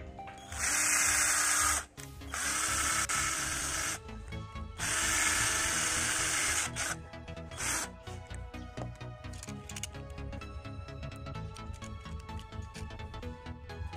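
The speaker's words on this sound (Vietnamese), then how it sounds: "Còn cái này mình sẽ khoan một đầu," Drilling a hole into one end of a part for a homemade automatic wine dispenser: three loud, sustained power-drill bursts close by, then quieter mechanical clatter and rattling.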